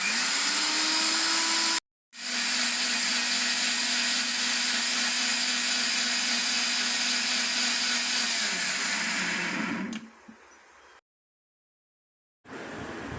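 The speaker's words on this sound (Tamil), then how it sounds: "கொஞ்சம் ஜீரகம், இது எல்லாமே போட்டு நல்லா ஃபைன் பேஸ்ட்டாக அரைச்சிக்க போகிறோம்." A kitchen mixer grinder whirs loudly, grinding coriander, mint leaves and cumin into a paste. It starts, stops briefly, runs steadily for several seconds, pauses, then starts again.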